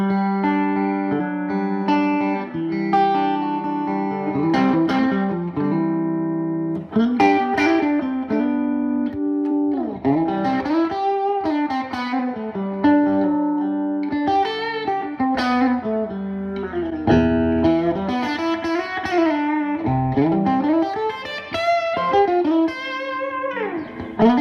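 Electric guitar played through a Telecaster middle pickup from a Tone Specific or Virgil Arlo set, giving a touch-sensitive, Memphis soul-style tone: a steady run of ringing chords and single notes, upfront and continuous, with no talking.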